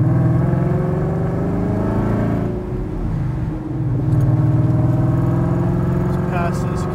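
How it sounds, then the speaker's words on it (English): A Ford S550 Mustang pulls hard at wide open throttle in third gear, a loud steady engine drone rising in pitch, with a short dip mid-run before the revs climb strongly again. "we're gonna do the data log, 3rd gear, wide open throttle"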